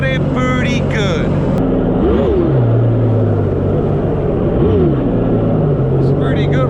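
A 2012 Sea-Doo RXPX 260 Rotax engine, just rebuilt with a Calas cam, runs at a low idle with a steady, loud drone and two quick throttle blips, while someone talks over it.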